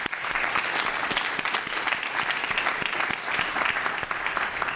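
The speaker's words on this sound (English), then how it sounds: "Let's give a round of applause to our panelists." An audience gives a round of applause for the panelists after a policy discussion, dense, even clapping from a moderate crowd that holds steady and close for several seconds without voices.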